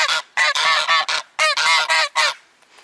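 Geese at the Kaliningrad zoo honk loudly and close, a rapid series of harsh, nasal calls in bursts with short pauses between, alone without talk.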